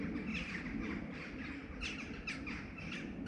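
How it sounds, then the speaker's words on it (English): Several harsh squawking calls from birds coming in to roost ring out at intervals over a noisy outdoor background, moderately loud and somewhat distant. "the old birds are coming into roost"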